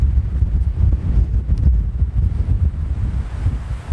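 A northeasterly wind in the Cambrian Mountains buffets the microphone with a continuous low, gusty roar, loud and close with no voices.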